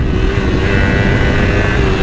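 A KTM 250 Duke motorcycle racing past other bikes on a road, its engine buzzing loudly at a steady high rev over heavy road and wind roar.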